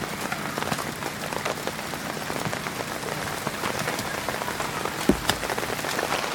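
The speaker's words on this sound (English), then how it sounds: "We got chased under the tarp this time. Just some serious rain." Heavy rain drumming on a tarp overhead during a mountain overlanding trip, a dense, steady hiss of drops hitting the fabric close by, with one sharper knock near the end.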